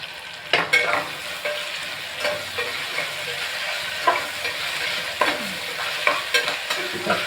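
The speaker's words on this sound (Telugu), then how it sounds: "పాలకూర కానీ చుక్కకూర కానీ ఇది కాస్త ఫ్రై అవ్వాలన్నమాట" Spinach frying in a pan for Karnataka-style idli sambar: a continuous sizzle broken by repeated sharp scrapes of a spoon stirring the greens, close and fairly loud, with no speech.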